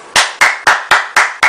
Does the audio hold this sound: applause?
yes